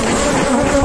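Honey bees swarm and buzz steadily around an open hive during comb and brood handling, a dense continuous drone close to the microphone with no talk over it.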